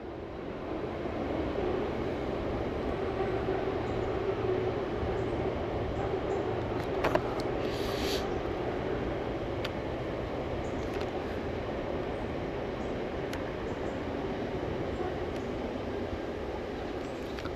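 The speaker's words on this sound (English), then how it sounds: "And I can hear a freight train." A long freight train passing at a distance outdoors, a steady low rumble and rolling drone holding fairly faint and even throughout.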